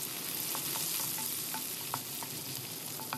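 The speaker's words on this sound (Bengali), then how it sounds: "তেলে একটু ভেজে নেব, তারপর দিয়ে দেব 1/2 কাপ পেঁয়াজ কুচি।" Chopped onion frying in oil with crushed cinnamon and cardamom for a beef or mutton rezala gives a steady close sizzle, broken by a few light stirring taps.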